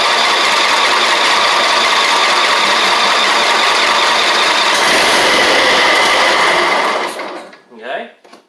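A Craftsman ZTS7500 zero turn mower engine, just fixed with a swapped carburetor, runs loud and close with a steady buzzing drone for about seven seconds, then cuts off and fades into quiet.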